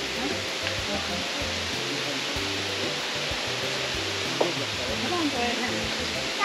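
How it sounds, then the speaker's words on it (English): Manoa Falls in Hawaii, a big waterfall roaring with a constant broadband rush of falling water, close and loud throughout, while voices chatter faintly underneath. "That's a big waterfall."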